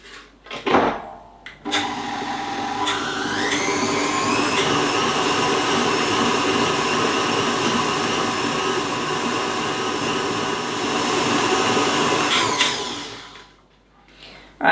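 A food processor whizzes fruit cake mixture for Winston Churchill's favourite fruit cake, a steady loud motor whir running for about ten seconds after a brief clatter, then cutting off and winding down.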